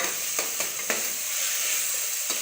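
Ginger garlic paste hitting a pan of frying tomatoes and onions, a steady close hiss of sizzling with a few soft stirring scrapes, no voices.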